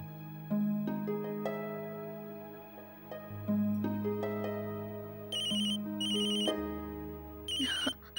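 A phone ringtone plays a bright melodic tune of stepped electronic tones, repeating phrases with high chiming accents, loud and alone in the room.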